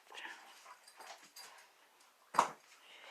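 A pet dog gives a short, sharp whimper that stands out once near the mic, following a few quieter, scattered whines and rustles.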